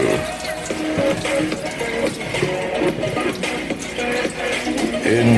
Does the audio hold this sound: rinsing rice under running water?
yes